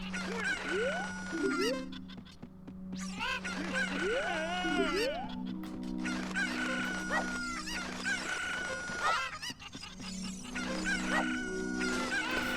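Video game chickens cluck and crow repeatedly, with several rooster crows rising and falling over clucking and honk-like calls. They sound close and fairly loud throughout.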